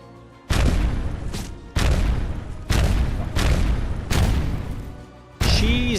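Turret fire in an Unreal Engine video game: five heavy booming shots land at irregular intervals, each a loud broadband blast that decays slowly, with a sharper electronic zap mixed into the last one.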